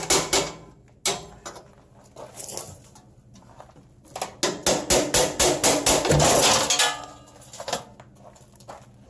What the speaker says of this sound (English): All I have to do is pop the bolts out,